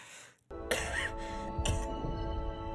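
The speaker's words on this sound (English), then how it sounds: "do not mean to cough into the microphone" A single close cough or throat-clear right into a microphone, sharp and loud, followed by a lingering bright ringing tone from a game in the background.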